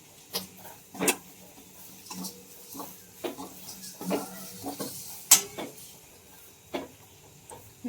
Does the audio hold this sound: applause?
no